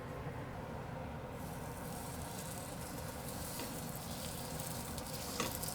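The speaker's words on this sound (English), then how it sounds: "So there's a little bit of a sizzle" A steady, dense sizzle of duck breast frying in a hot pan, crackling evenly throughout with no voices.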